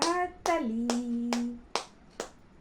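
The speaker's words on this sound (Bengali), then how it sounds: "এবার হাততালি করো, হাততালি।" About six hand claps land in an even, unhurried rhythm, close and crisp. A voice is heard over the first claps.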